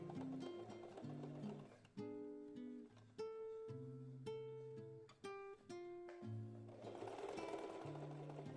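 A sewing machine stitches straight along marked lines on fabric for a diaper bag, with loud mechanical bursts of rapid rhythmic clatter broken by short pauses, close and alone.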